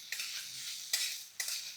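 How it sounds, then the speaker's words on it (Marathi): Cucumber poha with salt is stirred in a pan, three brisk scraping strokes over a soft sizzle, quiet and close with no talking. "आता याला 2 मिनिटांसाठी परतून घेऊया."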